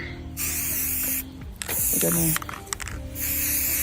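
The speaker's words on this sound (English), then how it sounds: "put it on so I can spray paint it" Two long hissing bursts of spray paint from an aerosol can onto a basketball, close up, with brief rattling and a voice heard between them.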